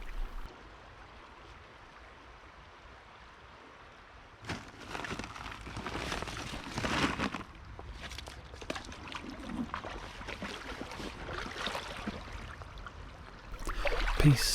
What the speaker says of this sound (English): I do want to get to the next weir, which I can hear but can't quite see yet.